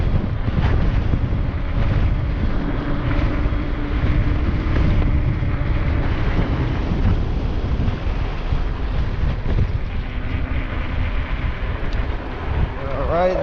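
Steady, heavy wind buffeting the microphone during a ride on a 3000W e-bike with dual Fardriver controllers, a constant low roar filling the whole stretch at close range.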